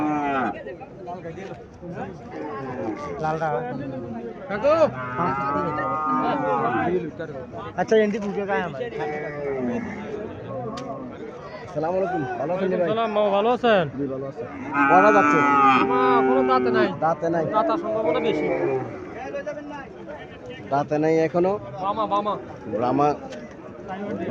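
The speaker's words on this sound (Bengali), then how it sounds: "এখানে উন্নত জাতের দুইটা বকনা বাছুর দেখা যেতে" Sahiwal heifer calves mooing near and loud at a cattle market in Comilla, with repeated long lowing calls and people chattering around them.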